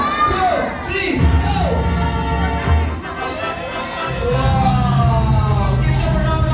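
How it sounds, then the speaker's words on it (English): A crowd of children at a magic show shouts happy birthday together loudly and excitedly, voices overlapping in a sustained cheer with rising and falling pitches. "Everybody shout, Happy birthday, Gab!"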